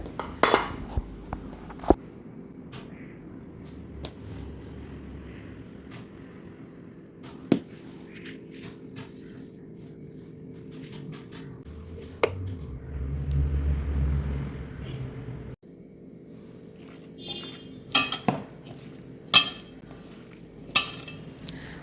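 Clam meat being stirred and mixed with chili powder, turmeric, garam masala and vinegar in a bowl, giving soft scraping and clinking of utensil against dish, with a low steady background rumble and occasional sharper knocks.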